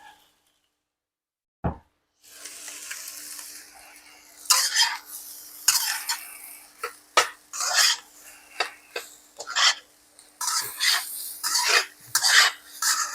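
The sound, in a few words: stirring chicken fried rice in a pan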